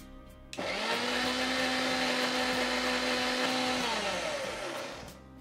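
A kitchen blender grinds onion, neem leaves and garlic into a paste for homemade onion oil. It starts abruptly and then runs as a steady loud whir for about four seconds. Its motor pitch drops as it winds down near the end.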